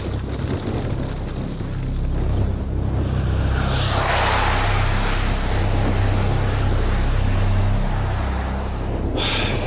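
Strong gusting wind roars into the microphone while cycling on a long open road, a loud broadband rush that swells and eases, with a brief hiss at the end and no voices.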